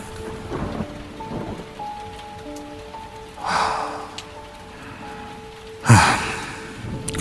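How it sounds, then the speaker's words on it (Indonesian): Rain falls steadily at midnight as a constant soft hiss, with louder swelling gusts of downpour midway and near the end. Faint tonal hums sit underneath the wash of rain. "hujan turun di tengah malam itu."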